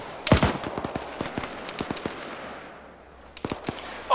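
Close gunfire in a video game with a burning vehicle cooking off nearby: a loud shot burst, then a run of sharp single cracks, a lull, and another short cluster of shots at the end.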